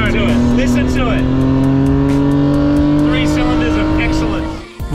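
A modified Daihatsu car's engine drones loudly and steadily while driving, its pitch climbing gradually through a gear, with a short break near the end.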